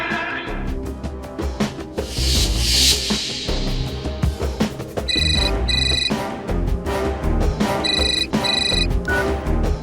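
A telephone ringing in a courtroom drama, two pairs of short trilling rings under loud, dramatic background music.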